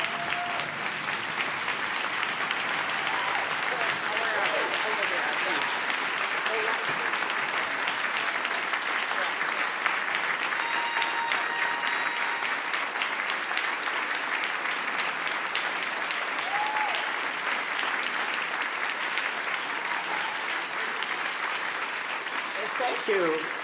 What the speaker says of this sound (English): I'd like all of us to stand and give a round of applause to the family